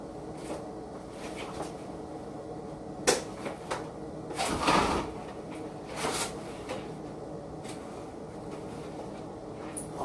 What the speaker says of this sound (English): I just lift up the kitchen window because it's starting to get hot up in here.